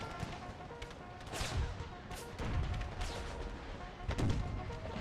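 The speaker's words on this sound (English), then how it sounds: "those howitzers are hitting right in their lines" Howitzer artillery fire in an Empire: Total War battle, with several booming blasts and crackling impacts spread across the moment over a busy background of battlefield noise.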